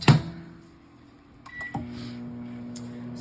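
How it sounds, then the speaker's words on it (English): A microwave oven runs with a steady low hum while melting soap, followed by a couple of sharp beeps from the unit and the hum resuming; close and moderately loud, with no talking. "So I'm gonna microwave mine for a little bit more."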